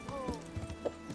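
Horse hooves clip-clopping in Kingdom Come: Deliverance, a few soft irregular steps with a brief whinny-like call partway through, at moderate distance over a busy game background.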